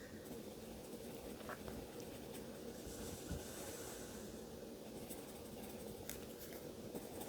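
Pencil drawing on paper, a faint, continuous scratchy scribbling with short strokes, quiet and close, with no talking.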